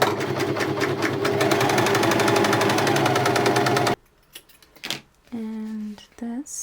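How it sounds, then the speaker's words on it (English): A sewing machine stitches a fabric test piece along a back seam in a steady, rapid mechanical patter, then stops; a voice speaks briefly afterward. "we're going to start sewing at the back seam."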